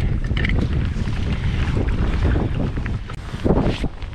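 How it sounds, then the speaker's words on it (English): Strong wind buffets the microphone continuously while kayak fishing on Lake Erie, a loud steady roar with faint water sounds beneath. "Oh, I hate this wind."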